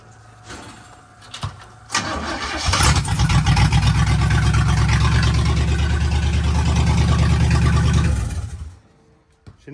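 A 1969 Chevy Blazer with an old carburetor needing tuning cranks and fires up, then runs with a loud, steady close rumble for several seconds before shutting off.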